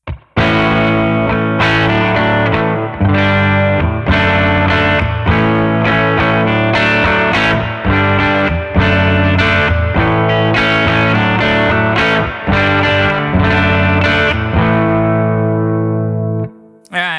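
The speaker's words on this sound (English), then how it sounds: "if you move it to the end, it will suddenly become a stereo reverb" Distorted electric guitar plays sustained chords through a Mixwave Benson amp plugin, with a wide, washy stereo reverb tail ringing out after the final chord.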